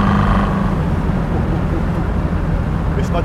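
Chevrolet Corvette C3 with the L-48 V8 and a near-stock exhaust rumbles steadily under way, a continuous low engine drone heard from inside the car on an open road.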